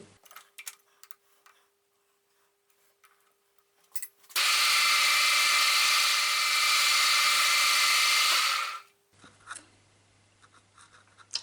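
A metal lathe spins a boring head at 300 RPM, machining metal for a small wobbler engine. It gives a loud, steady grinding whir for about four seconds in the middle, with quiet clicks and handling noises before and after.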